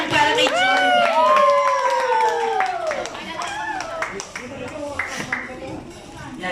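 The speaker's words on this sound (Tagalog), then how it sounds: "once again, sa malakas sa palakpakan at hiyawan para kay Joey." An audience at a live show claps and cheers loudly for a performer, with high whoops and shouting rising above the steady clapping before it slowly thins out.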